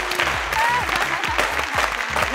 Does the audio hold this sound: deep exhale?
no